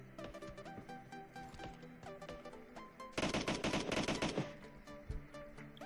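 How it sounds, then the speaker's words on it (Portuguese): Rapid automatic gunfire in a multiplayer shooter video game, scattered single shots followed by a dense, loud burst of machine-gun fire, then more sporadic shots. "Quem que tá atirando"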